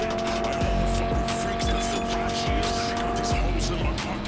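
Car tires skid and squeal in Cyberpunk 2077, the loud screech running over a steady engine roar and repeated low thumps, all continuous and close.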